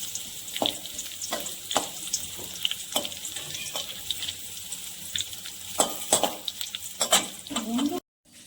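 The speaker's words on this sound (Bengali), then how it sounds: "এবার আমি ফোড়ন করে নেব। একটা শুকনো লঙ্কা, দুটো তেজপাতা আর গোটা জিরে।" Dried red chili, bay leaves and whole cumin crackle in hot oil in a wok-style kadai, a steady close sizzle broken by sharp spatula scrapes and clinks every second or so, with no talking.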